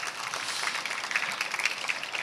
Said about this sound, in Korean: 너무나도 귀한 말씀 증거해 주신 목사님께 박수로 감사드립니다